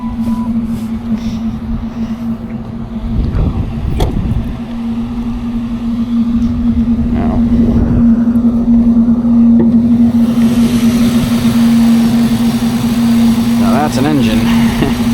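A 2004 Mercury Grand Marquis 4.6-liter V8 idles steadily with a constant low hum, close by. Someone talks over it, and an occasional clunk is heard.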